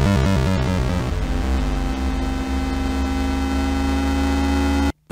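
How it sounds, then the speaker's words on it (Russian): Eerie, unsettling music from the indoor areas of the video game Faith: a loud, dense, continuous droning tone that holds steady for about five seconds and then cuts off abruptly. "В основном, кстати, именно в закрытых помещениях играет эта нереально стрёмная музыка."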